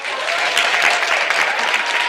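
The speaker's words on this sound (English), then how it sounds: "One more round of applause for all of" A public school board session audience breaks into a brief, full round of applause, many hands clapping steadily and fairly loud, nearby voices barely present.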